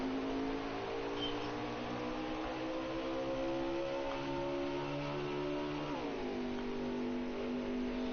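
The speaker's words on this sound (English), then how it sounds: "Back up through the gears they go" Race cars accelerating out of a pit stop in a racing game, engines revving up through the gears with a steady whining drone and an audible shift partway through, with no voices.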